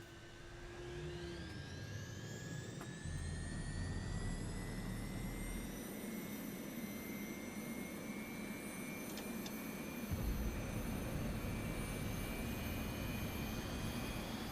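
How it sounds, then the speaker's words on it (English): Mirage 2000 jet engine spooling up in the DCS World flight simulator: a rising turbine whine climbs steadily over a continuous low roar, growing louder and thicker from about three seconds on, with brief clicks and no talking. "The engine's spooling up nicely."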